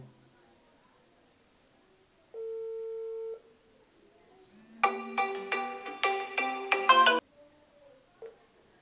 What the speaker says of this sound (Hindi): नेक्स्ट दोस्तों यहाँ पर व्हाट्सएप वीडियो कॉल करेंगे हम